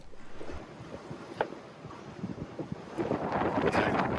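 Wind blowing steadily over a sailboat beating upwind off Tasmania in about 13 knots, a broadband rushing roar with buffeting gusts that swell louder toward the end, likely with water noise mixed in.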